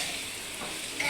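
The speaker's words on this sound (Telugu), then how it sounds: "ఇదిగోనండి ఇలా ఫ్రై అవుతుంది." Masala for curry leaf chicken pulao fries in a pan with a steady, close hiss that stays even and unbroken for about a second.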